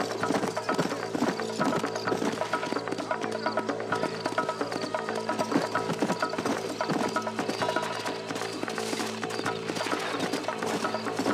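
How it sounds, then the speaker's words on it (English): Steady clip-clop of horse hooves in Red Dead Redemption at a brisk trotting rhythm, dense and continuous, with a faint whinny and game sound effects layered in. "Get on the horse, John."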